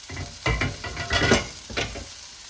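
Sizzling of potatoes frying in a pan with stirring and scraping in uneven bursts, close and moderately loud, no voices.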